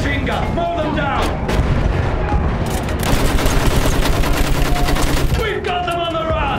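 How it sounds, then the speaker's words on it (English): Rapid machine gun bursts and fusillades in a Battlefield 1 World War I trench battle, with artillery booms and shouting voices layered into a dense, loud, continuous combat din. "Use that machine gun! Mow them down!"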